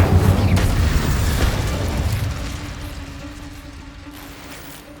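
An Incendio fire spell is cast in Hogwarts Legacy, a heavy booming whoosh of flame that swells at once and slowly fades over several seconds, with a faint mechanical hum lingering beneath.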